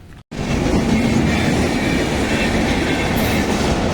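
A train rolls past close by, a loud steady rumble with rattling wheels that fills the whole stretch after a brief quiet start.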